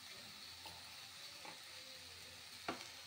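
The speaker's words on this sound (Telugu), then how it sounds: "బాగా ఫ్రై చేసుకోవాలండి. మీడియం ఫ్లేమ్లోనే పెట్టి చేసుకుంటున్నాను." Mixed vegetables such as beans and carrot fry in a pan over a medium flame, giving a faint, steady sizzle with a few soft stirring scrapes.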